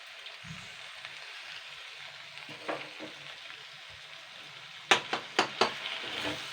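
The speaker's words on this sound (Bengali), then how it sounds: "এবার ডিমটা দিয়েই কিন্তু আমি কষাবো" An egg sautéing in a little oil for an okra-and-egg curry gives a steady low sizzle, broken by a few sharp scrapes and taps of a spatula against the pan near the end.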